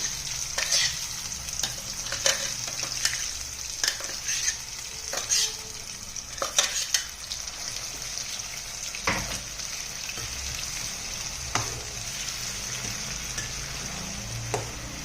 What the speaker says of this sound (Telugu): నూనెలో బాగా మగ్గాలి.